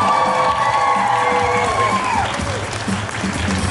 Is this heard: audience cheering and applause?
yes